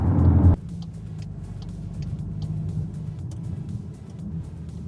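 Tuned Gen 4 Volkswagen Golf R engine giving a low, steady rumble from inside the cabin while driving, heard after a brief louder burst at the start, with a continuous mid-level drone throughout.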